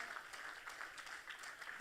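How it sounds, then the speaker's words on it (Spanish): A church congregation claps together in a brief burst of steady applause during a sermon, the sound fairly faint and even throughout. "Si yo fuera tú, le diera un aplauso fuerte al Señor."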